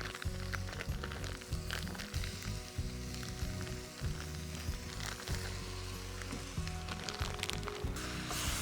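Goat meat browns in a pan at a campsite, giving a steady, close sizzle and crackle that holds for the whole stretch, with faint scraping and stirring now and then.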